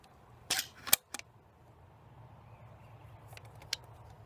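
Twenty-gauge shells loading into a Remington 870 shotgun: a few sharp metallic clicks and clacks close up in quick succession, then a quiet pause and one more small click, with no talking.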